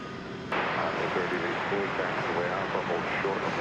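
An Airbus A321 airliner at DFW Airport, its engines a broad, steady roar that starts suddenly and holds loud and even, with voices underneath.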